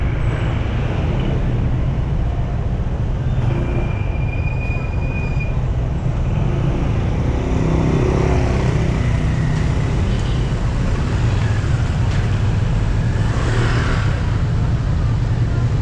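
Steady low rumble of a car moving through congested Saturday road traffic, continuous and fairly loud from start to finish, with a few faint squeals and passing-vehicle swells and no talking.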